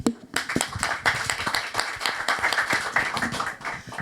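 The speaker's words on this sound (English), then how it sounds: "So a round of applause." A conference audience at a women's leadership in energy event applauds, with steady, dense clapping from many hands that holds at an even level for the full four seconds.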